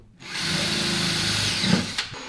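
Power drill boring through a brake disc on a car, a steady loud grinding whine with a dense low rumble that runs about two seconds, ending in a brief catch and a couple of knocks.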